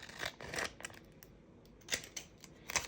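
Scissors snip away excess UV DTF glitter decal film while preparing a wrap for a tumbler, a few crisp cuts in two bursts separated by a quieter pause, close and clear with no talking.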